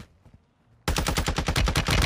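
Video game gunfire bursts in suddenly after a quiet start: a loud, close automatic weapon firing a rapid, even string of shots that continues to the end.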